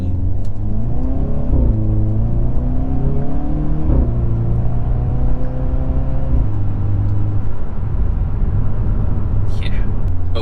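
A 2021 Hyundai Veloster N with a dual-clutch gearbox accelerates in N mode, engine pitch rising through several quick upshifts with sharp drops between, loud and close from inside the car, a few crackles near the end.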